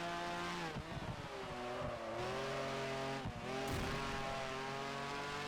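A race car in Project Gotham Racing 4 roars steadily at high revs, then its engine note dips sharply as it brakes into corners, with brief tire squeal and a renewed climb in pitch afterward.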